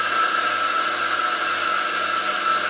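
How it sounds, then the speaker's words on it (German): Mazzer Mini Electronic coffee grinder running, a steady loud broadband whir with a high motor whine, continuous and close. "So, vorher sollte man die Mühle natürlich einschalten,"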